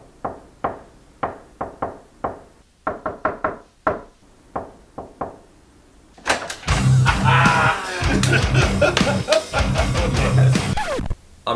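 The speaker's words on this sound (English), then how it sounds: "key to the knock is you always have a secret knock" Loud, close knocking on a door in an irregular secret-knock pattern of quick raps and pauses, followed by a dense, noisy burst of clattering sound.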